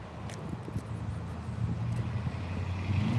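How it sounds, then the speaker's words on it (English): A blue car drives past on a road, its low engine rumble swelling steadily over about three seconds, with gusty wind noise on the microphone. "when the blue car drove by me"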